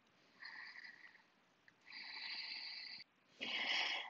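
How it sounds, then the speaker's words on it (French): Ujjayi yoga breathing during a prenatal yoga session: three long, audible ocean-like breaths with a hissing, constricted-throat rasp, each a second or more, close and alone, the last one loudest. "Je maintiens la respiration Ujjayi."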